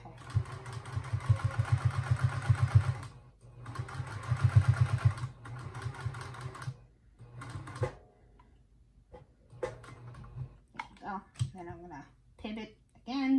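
Sewing machine stitching fabric and netting, heard as two loud bursts of rapid, buzzing stitching separated by short pauses, followed by quieter handling noises and someone talking.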